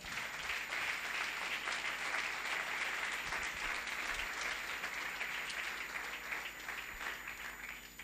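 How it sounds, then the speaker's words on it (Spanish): A church congregation applauds in a dense, sustained wash of clapping that holds steady and tapers slightly near the end, heard from a distance. "Dile un aplauso al Señor."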